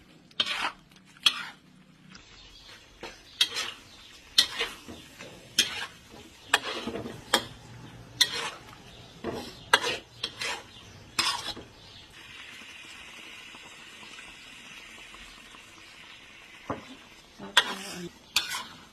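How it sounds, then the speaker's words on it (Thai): Ingredients tossed and stirred in a hot pan while cooking, with repeated scraping and clinking strokes of a utensil at an irregular rhythm over a steady sizzle, close and fairly loud, and no talking. "คลุกเคล้าให้เข้ากันค่ะทุกคน"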